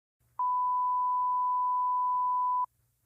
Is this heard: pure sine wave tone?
yes